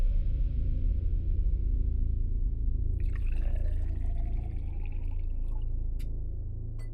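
Water pours steadily from a vessel in an indoor scene, a soft continuous trickle that fades slightly toward the end, with faint clinks near the close and no one speaking.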